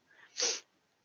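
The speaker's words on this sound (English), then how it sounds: "almost said bless you, but you you coughed" A single short, breathy expulsion in a tabletop role-playing session, a cough that sounds almost like a sneeze, close and brief against near silence.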